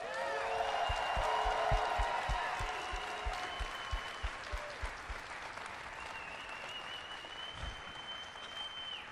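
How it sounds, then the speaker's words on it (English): Crowd applause with scattered whoops at a BlizzCon live Heroes of the Storm match event, loud at first then thinning into slower individual claps, with a faint voice over the tail. "Could you guys do me a favor and give a big round of applause for Kent Eric Hagman?"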